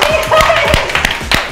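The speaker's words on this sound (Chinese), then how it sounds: "为我自己鼓掌。" A few hand claps, brief and close, mixed with excited talking and laughter from people nearby.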